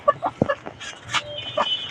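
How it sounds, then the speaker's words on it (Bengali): Two broody hens cluck nearby in short, uneven bursts of throaty clucks with small pauses between them, fairly loud and close. "এই জায়গায় রয়েছে আমার 2টা কুচা মুরগি,"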